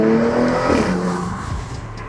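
A 2024 Porsche Macan GTS heard from inside while driving, engine note shifting briefly with a short rise and fall over about two seconds, fairly quiet and without talk.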